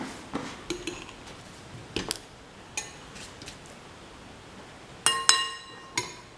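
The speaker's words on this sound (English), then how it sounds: "Thoroughly mix and marinate the cottage cheese or paneer pieces in the mixture." Spoon scraping and clinking against a bowl while paneer cubes are tossed in a turmeric spice marinade, with a few sharp taps spaced irregularly and louder clinks near the end.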